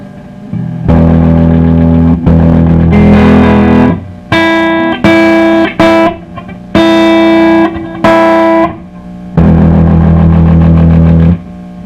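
Distorted electric guitar played through a Fender Blues Deluxe amp with failing filter capacitors, loud chords and bursts of notes with short gaps, the tone wavering and slightly out of tune.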